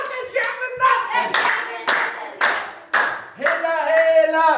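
A group of people in a team tissue-pulling challenge cheers and claps in uneven bursts, close and lively, with excited voices shouting between the claps.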